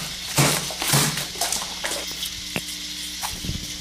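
Chicken dropped into a hot pan and sautéed for adobo, a steady sizzle and frying crackle with a few sharp utensil scrapes and taps against the pan, close and clear.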